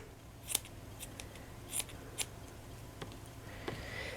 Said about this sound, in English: I'm going to try and cut it into a circle to start with.